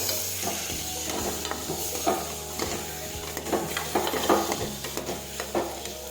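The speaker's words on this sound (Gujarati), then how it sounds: "હવે આ રીતે આપણે બધા મસાલા છે તે મિક્સ કરીશું." Turmeric, cumin and other spices are stirred into vegetables in a frying pan, repeated scraping and clacking of a spoon over a steady sizzle with a low background hum, nearby and continuous, no talking.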